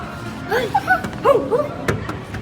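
Dogs bark and yip in a few short clusters nearby in a pet shop, with a sharp knock near the end against a noisy background.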